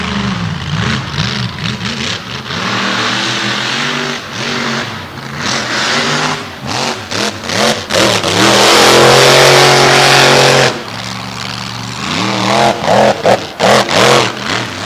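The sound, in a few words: truck engine revving, transmission being strained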